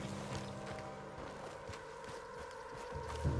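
Horse hooves clip-clop steadily on a path in the open-world western game Red Dead Redemption 2, faint and rhythmic beneath a low ambient hum with no talking.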